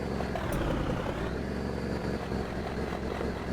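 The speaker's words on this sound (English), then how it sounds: "I do like the sound of the trucks." A continuous video game truck engine drones at a steady, even level, with a low rumble and no pauses.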